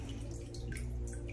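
Water in a household bathtub gives a steady, close wash of dripping and trickling, with small splashes and plinks scattered over a low continuous rumble.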